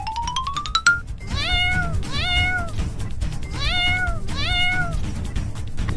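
A cartoon kitten gives a quick rising squeak, then four clear, high meows in an even rhythm over a low background hum, with no one speaking.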